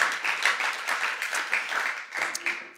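Audience applause fills a church-style gathering, a dense steady clapping that carries on for the whole stretch, loud and close with no break.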